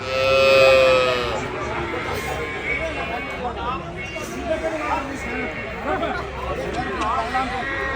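Calf mooing at the Pollachi cattle market, repeated drawn-out lowing calls close by over a background of crowd chatter and market hubbub.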